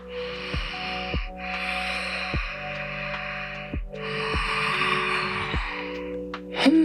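Slow, audible breaths through the nose during a yoga core and balance session, several rhythmic inhales and exhales spaced evenly, close and fairly quiet, with no speech.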